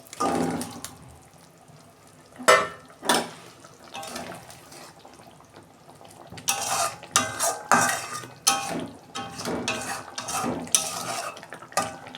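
Bhola fish go into simmering masala in a pan, producing a run of metallic clatters, scrapes and utensil knocks in irregular bursts, louder in the second half, with a soft watery background and no voices.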